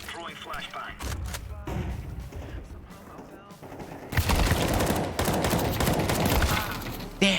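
Rapid video-game gunfire and grenade blasts fill a tactical shooter firefight, steady crackling shots through the first half and then a louder, denser barrage of fire and explosions from about four seconds on, with speech faintly present.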